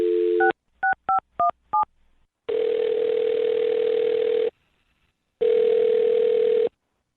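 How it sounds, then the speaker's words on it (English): A telephone keypad sends a quick run of five crisp dialing tones, followed by two long steady ringback tones separated by silence, clean and close with no talking. "I'm going to dial his phone number."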